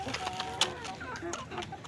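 Several Rhode Island Red chickens, including a hungry rooster, cluck and murmur close by in a steady, busy chatter, with a sharper squawk standing out briefly.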